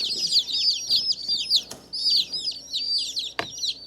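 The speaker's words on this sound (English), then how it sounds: "we have 25 laying birds in here, laying type breed birds in here" Twenty-five laying-breed chicks peep inside a delivery box, with rapid, high, overlapping chirps close by and a couple of sharp knocks.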